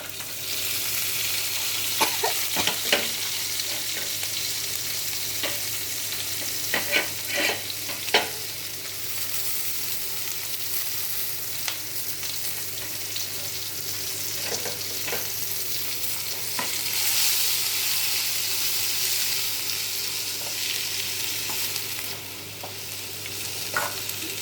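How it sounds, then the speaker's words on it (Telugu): Malabar spinach and tamarind leaves fry in a pan with a steady, even sizzle, broken by a few scraping stirs, and no one talks over it. "చూడండి బాగా వేగిపోయింది"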